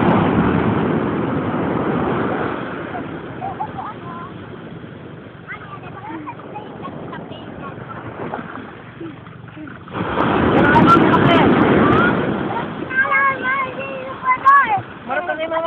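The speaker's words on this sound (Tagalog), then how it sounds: "Laki ng alon, no? Ang laki ng alon!" Large waves surge and wash at Luan Beach, Leyte, in steady broad roars that swell again partway through, while people shout and talk excitedly over them.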